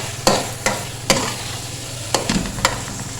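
Carrot halwa with almonds and coconut roasts in ghee with a soft, steady sizzle. Several sharp scraping stirs of a spoon against the pan come at irregular intervals, close by.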